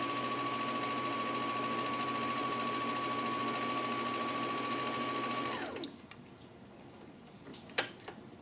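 A sewing machine winds bobbins for a jelly roll quilt, running at a steady whirring, ticking pitch for several seconds before stopping abruptly, followed by quiet room noise and a single small click.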